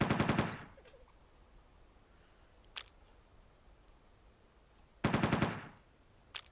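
Gunfire in the video game Entropia Universe: two short, rapid bursts of shots several seconds apart, with a couple of faint clicks in the quiet gap between.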